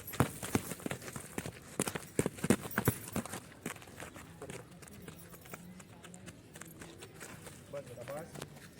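Horse hooves clip-clop sharply and irregularly during a horse training session, loud bursts of strikes early on that thin into softer, scattered steps, while someone talks throughout.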